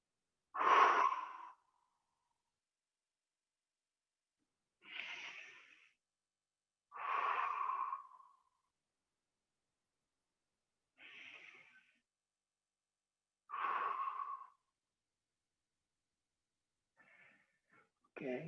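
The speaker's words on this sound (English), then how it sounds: "Couple of deep breaths here." Slow, deep breaths during a squash warm-up stretch, each inhale and exhale a soft airy rush spaced a few seconds apart, close and alone in near silence.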